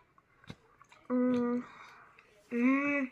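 Red rocket candy is chewed close to the mic with soft wet squishes, and two longer bursts of humming break in between the chews.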